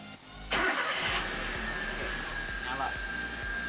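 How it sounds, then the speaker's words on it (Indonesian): A car engine cranks and catches with a loud burst, then settles into a steady idle rumble with faint clicks, while voices talk briefly over it. "Jadi yang kedua itu menyalakan mesin."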